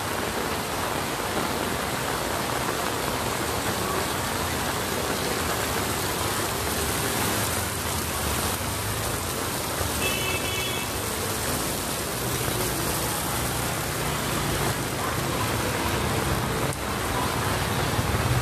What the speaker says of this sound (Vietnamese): Mưa khá lớn, mà ướt cả quần luôn.